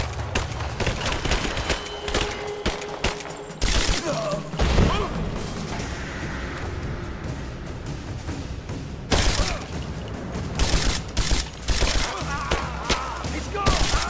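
Rise of the Tomb Raider combat gunfire: scattered volleys and single shots with thuds and crashes, moderately loud, sharper bursts near the start and late, amid a noisy battle background with a brief voice.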